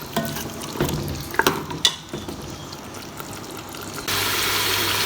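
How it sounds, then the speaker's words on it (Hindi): Meat and masala frying (bhuna) in ghee in a pot for tinda gosht, with steady low sizzling, a few clattering stirs and scrapes early on, then a louder, denser hiss toward the end. "तो इसको हम 10 से 15 मिनट मज़ीद भूनते हैं।"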